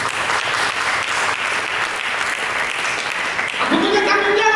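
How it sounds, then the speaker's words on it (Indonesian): Church congregation applauding during a sermon, a dense sustained wash of clapping from a sizable crowd, steady throughout with a bit of talk or cheering rising near the end. "Dekat tepuk tangan."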